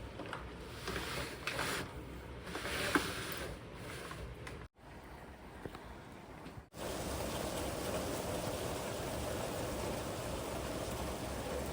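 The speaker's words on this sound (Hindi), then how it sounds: "विंडो से बारिश का नज़ारा कर रहे हैं।" Heavy summer rain in Waterloo falls outside a window as a steady, even hiss heard from indoors, briefly dipping before returning fuller and louder, with no voices.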